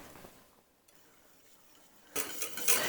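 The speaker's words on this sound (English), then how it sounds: "then continue to whisk it until everything comes together" Chocolate cake batter whisked in a pot over medium heat. A quiet stretch gives way to loud, rapid metallic scraping and clinking of the whisk against the pot.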